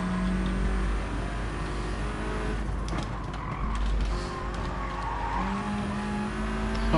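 Race car in Gran Turismo Sport braking hard with sustained tire skid and squeal over a steady engine drone, the squeal rising and fading across the run without speech.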